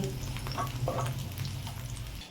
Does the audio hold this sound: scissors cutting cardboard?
no